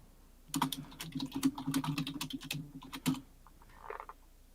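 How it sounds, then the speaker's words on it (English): Aggressive typing on a computer keyboard during a live call-in show: a rapid, uneven run of sharp, close keystroke clacks that stops after a few seconds, with no talking. "My aggressive typing is coming through the mic."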